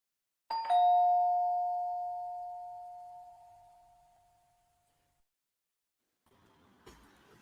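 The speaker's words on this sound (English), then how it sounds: "It's another doorbell." A single two-tone doorbell chime rings out clearly, its tones ringing and slowly fading over several seconds, followed by faint rustling.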